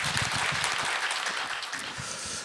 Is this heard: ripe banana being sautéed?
no